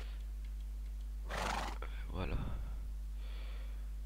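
A single horse whinny in Minecraft, a short rising and falling call near the middle, stands over a constant low hum and a faint click or two.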